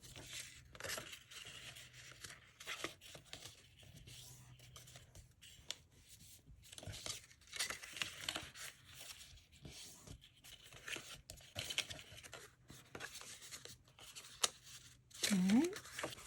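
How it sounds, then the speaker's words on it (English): Paper card creases along scored lines for a star fold card, with mountain and valley folds producing close, steady crinkling and rustling that runs throughout. "we're going to do is fold along all our score lines"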